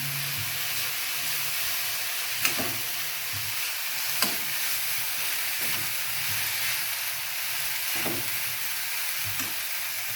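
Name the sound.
sautéing broad beans with turmeric and rock salt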